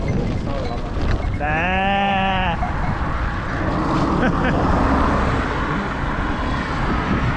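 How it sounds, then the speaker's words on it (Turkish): A single wavering sheep bleat rises over a steady roar of wind and engine noise, with faint voices in the background, as a shepherd feeds his flock beside Çatalan Dam in Turkey. "Şu koyunlara baksanıza."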